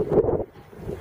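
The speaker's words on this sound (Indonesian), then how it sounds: "tiba-tiba angin kencang datang dan sepertinya akan ada" A strong gust of wind sweeps across a boatyard before a storm, a loud low rumbling buffet against the microphone that eases and then rises again.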